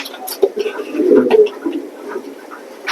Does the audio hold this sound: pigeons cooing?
yes